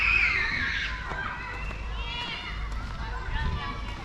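Many children playing and shouting outdoors in a residential neighbourhood of Luhansk, a busy, continuous din of distant voices and calls with footsteps and general street bustle throughout.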